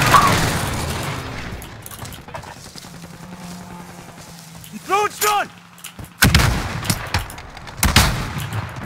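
Shots ring out in a multiplayer shooter video game, with loud bursts around the middle and end of the clip over a busy battlefield background; a voice speaks briefly.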